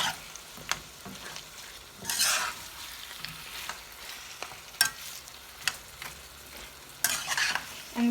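Mutton with potatoes is stirred and roasted in black pepper spices in a pan, with a soft background sizzle broken by close, irregular scraping and clattering strokes of the spoon.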